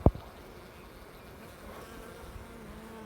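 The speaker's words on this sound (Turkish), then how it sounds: "Arılar çalışıyor, bir temizlik yapıyor." Soft, continuous buzzing of honeybees around their hives, faint and steady, with a sharp click at the start.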